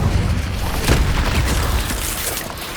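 A loud, booming fire blast from the Incendio spell in Hogwarts Legacy, fired during a fight with spiders, a short burst that swells into a roaring rumble.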